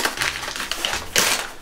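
Packing paper crinkles and rustles during an unboxing, with loud close bursts of crackling and a sharper crunch near the end.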